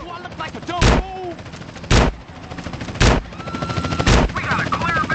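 Gunfire in the video game GTA San Andreas: four loud, evenly spaced shots about one second apart, each a sharp blast over a busy game soundscape with faint voices in the background.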